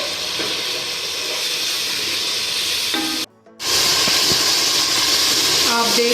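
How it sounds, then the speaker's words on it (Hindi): Crushed green chili and tomato go into hot masala for kadhi pakora, setting off a loud, steady sizzling hiss that cuts out briefly for a moment, then resumes even stronger. "अब मैं इसमें सब्ज़ मिर्च कुटी हुई और टमाटर भी साथ में"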